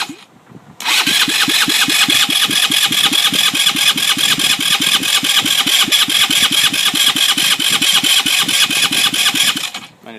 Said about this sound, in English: turn my ignition on and show you how it runs